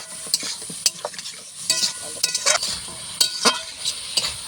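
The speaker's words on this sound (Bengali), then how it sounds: "এবারে আলুটা দিলাম, পটল এগুলো দিয়ে একটু কষিয়ে দিব।" Potato and pointed gourd stirred and sautéed in goat fat, a steady close sizzle broken by repeated scraping and clinking strokes of a spatula against the pan.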